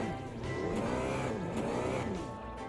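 A car from the AMS2 racing game spins a rallycross donut, its engine droning steadily and loudly with shifting revs and a tire-squeal edge, continuous from start to finish.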